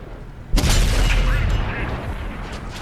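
A tank gun firing in the World of Tanks video game, one sudden heavy boom with a deep rumbling tail that slowly fades over the next two seconds.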